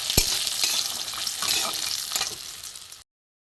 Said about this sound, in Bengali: লাল করে ভেজে নেবো বড়িটা